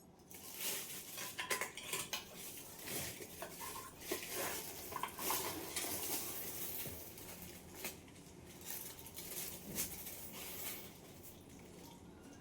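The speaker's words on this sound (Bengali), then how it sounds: "এবার আমি এর মধ্যে চিনি মিশিয়ে দেবো" A spoon scrapes and clinks steadily against a bowl as sugar is worked into mashed chhana (cottage cheese), with busy, close, uneven clatter for the whole stretch.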